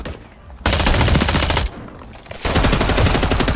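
Rapid bursts of gunfire in a sniper video game, loud close automatic volleys in two long stretches separated by a quieter gap, no talk.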